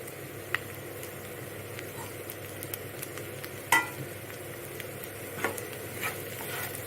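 Taro root pieces frying in a pan with chili powder and salt, a soft steady sizzle with occasional spoon scrapes and clinks as they are stirred.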